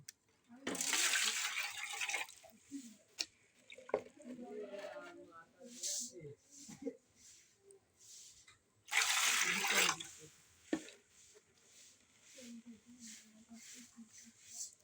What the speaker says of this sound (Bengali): এই যে এই ধানের পানি এখন আমরা সরাবো।